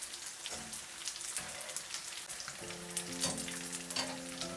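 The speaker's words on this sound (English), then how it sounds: "Flip them halfway through cooking. The tofu cubes turn golden." Tofu cubes fry in a pan of hot oil, crackling in a dense close spatter of sizzling pops with occasional soft knocks of the pan.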